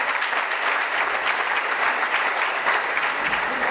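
A congregation claps together in a church, dense and steady applause filling the room for several seconds without a break, fairly close and even in loudness.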